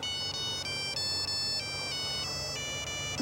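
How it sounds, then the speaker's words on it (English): A mobile phone plays a personalized Beethoven ringtone, a bright repeating electronic melody that rings steadily and clearly for several seconds with no talk over it. "You have a different ringing tone for your boyfriend."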